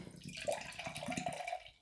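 Phantasm imperial milk stout with vanilla is poured into a glass, a short, soft liquid gurgle and splash lasting under two seconds, close and fairly quiet.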